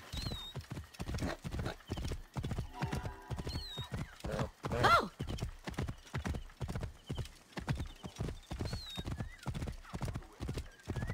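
Galloping horse hooves in Assassin's Creed Origins, a steady rapid clip-clop rhythm throughout, with a few whinnies over the top and a louder burst midway.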